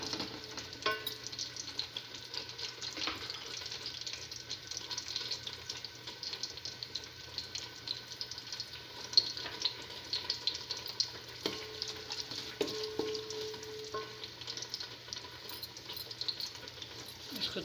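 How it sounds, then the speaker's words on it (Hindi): Mutton duwan masala fries in a pan with a steady, moderately quiet sizzle and occasional stirring scrapes, running without pause for the whole stretch. "इसको थोड़ा भून लूँगी।"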